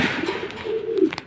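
A racing pigeon cooing close by: one low, rolling coo that rises and trails off, ending in a couple of faint clicks.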